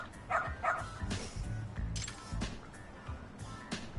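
A dog in the video game Lost Judgment barks a few times in short, sharp yelps over a quiet backdrop of game ambience.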